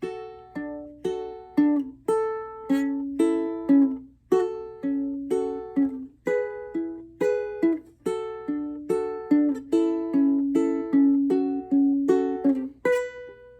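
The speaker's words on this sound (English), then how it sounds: "it's basically pinching the top string, the third string, and the fourth string, and then plucking the second string after" A ukulele plays a repeating fingerpicked pattern: a pinched chord on the top, third and fourth strings followed by a plucked second string, steady rhythm, clear and close, with no talking.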